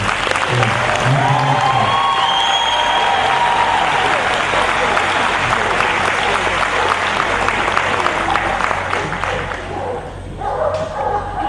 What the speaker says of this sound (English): we deserve another round of applause for her